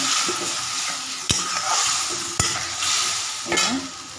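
Water hits spices frying in a pan for a light fish curry, a loud continuous sizzle and hiss broken by three sharp utensil knocks against the pan.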